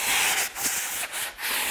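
A sanding sponge rubs over an interior window frame in quick back-and-forth strokes, a close, loud, rasping scrape with brief pauses between passes.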